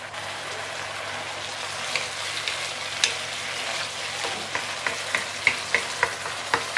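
An egg fries in a wok over high heat, a dense steady sizzle with light crackles and a series of small regular taps in the second half.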